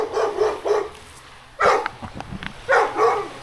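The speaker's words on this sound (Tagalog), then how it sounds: "Ang laki ng aso." A dog barks in short bursts of two or three, fairly close, with quiet gaps between the volleys.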